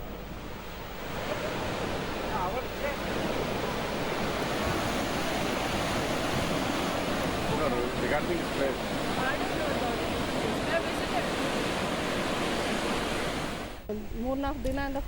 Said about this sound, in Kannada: ಮಳೆಯಿಂದಾಗಿ ಜಲಪಾತವು ತುಂಬಿ ಹರಿಯುತ್ತಿದ್ದು